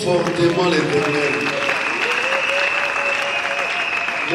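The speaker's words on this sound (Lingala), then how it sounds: "Put your hands together for Acclamons Jesus." Church congregation applauding during a French-language service, steady dense clapping throughout with a voice speaking over it and a sustained musical tone behind.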